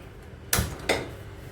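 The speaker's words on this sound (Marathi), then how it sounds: "आता मी इथे लोखंडी कढई घेतलेली आहे, तिला गरम करायचं" An iron kadhai handled and set down on a stove in a home kitchen, two sharp metallic knocks about a third of a second apart, close and fairly loud, with no voices.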